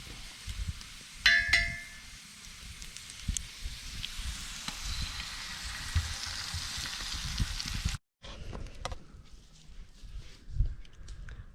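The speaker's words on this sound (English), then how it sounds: "So I'm gonna start throwing some eggs in there." Eggs fry in butter with peppers in a pan: a soft, steady sizzle with a metallic clang and ding near the start and a brief dropout partway through, with no speech.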